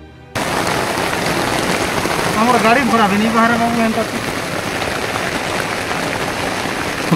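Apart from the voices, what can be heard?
heavy rain falling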